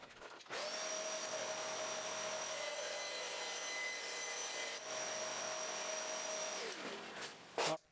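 A band saw fitted with a half-inch blade makes a test cut in scrap wood. A loud, steady whining buzz holds for about six seconds, then winds down, and a brief clatter follows.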